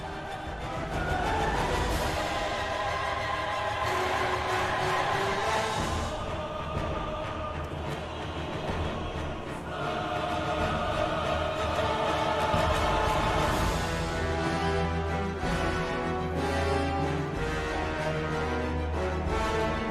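Orchestral and choral music from a Bloodborne boss theme plays loud and dense throughout, with sustained layered tones and steady intensity and no speech.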